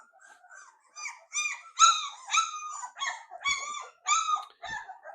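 Labrador Retriever puppies at their first bath let out a string of high, squealing yelps and whimpers, about a dozen rising cries in quick irregular succession, close and fairly loud.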